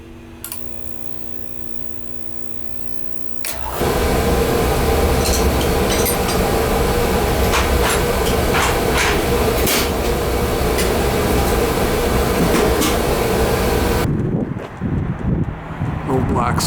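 An oil burner for heating buildings fires up after a nozzle cleaning, cutting in abruptly with a loud roaring rumble that runs steadily for about ten seconds, then drops away as voices speak.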